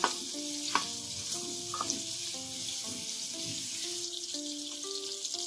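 Onions sizzle in a pan as the base for a spinach and potato curry, with a steady close-up frying hiss and occasional stirring scrapes, while soft music plays in the background.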